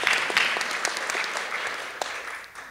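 An audience at a literary festival reading in Boulder applauds, a dense, steady wash of many hands clapping that holds throughout and slowly thins toward the end.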